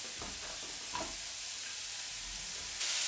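Carrots and bell pepper sizzling and softening in a little oil in a pan, a quiet, steady frying hiss close by with faint stirring clatter, brightening near the end.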